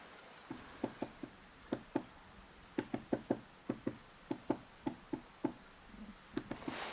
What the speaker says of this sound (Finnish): nytkin tikka koputtelee tuossa lähellä